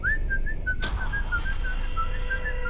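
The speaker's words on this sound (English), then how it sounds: "we heard the whistle again too" A long, thin whistle wavers in a steady high tone, faint and drawn out against a low background hum, broken once by a sharp click.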